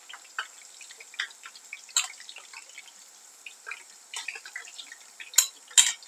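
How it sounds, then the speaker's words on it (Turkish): Fried peppers lifted out of a pan make light metallic clinks and small scraping taps, scattered and fairly quiet, with a couple of brighter utensil knocks near the end. "Kızaran biberlerimi de çıkartıyorum."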